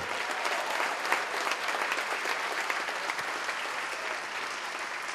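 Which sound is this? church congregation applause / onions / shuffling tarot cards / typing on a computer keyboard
church congregation applause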